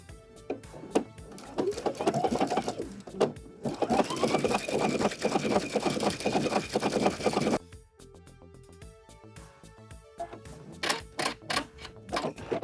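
Close, steady whirring of a sewing machine running a shell stitch through stretch lace, one long continuous run followed by a quieter stretch of scattered clicks and mechanical ticks.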